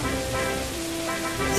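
Steady rain and wind hiss in the Pokémon Black video game, a continuous soft wash with faint music underneath, swelling slightly at the very end.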